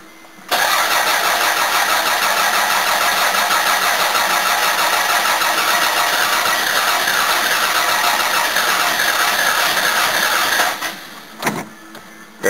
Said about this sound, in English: Let's see if it starts or cranks